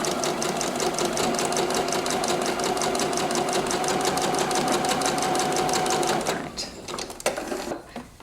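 A sewing machine runs close and steady, stitching a line of gathers across fabric for a frock. Its rapid, even needle rhythm continues for about six seconds and then stops, leaving a few soft handling sounds.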